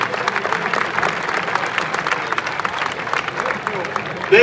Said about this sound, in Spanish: Venga, ese aplauso fuerte.